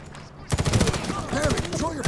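Dense bursts of gunfire erupt in a Medal of Honor (2010) firefight, loud and continuous after a quieter half-second opening, with overlapping volleys and shouted voices mixed in.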